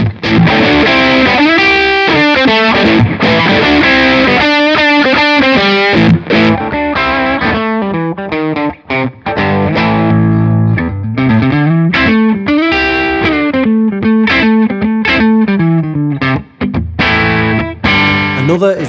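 A Boss DS-2 distortion pedal stacked with an overdrive pedal drives an electric guitar, playing loud, saturated chords and riffs with a thick, compressed tone and brief gaps between phrases.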